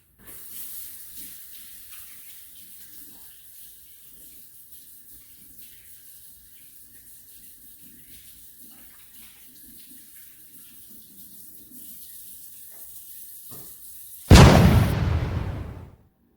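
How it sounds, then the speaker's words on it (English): A tap suddenly gushes loud running water for about two seconds at the end, likely for hand washing, after a long stretch of faint room tone. "I'm gonna go wash my hands"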